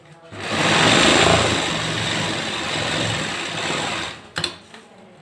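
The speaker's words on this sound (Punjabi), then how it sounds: "ਪਹਿਲਾਂ ਆਪਾਂ ਇਦਾਂ ਇੱਕ ਪੈਰ ਦੀ ਸਲਾਈ ਮਾਰਨੀ ਹੈ" A sewing machine stitches a pajama pocket in one continuous whirring run of about four seconds, close and fairly loud, and then stops with a few short clicks and handling sounds.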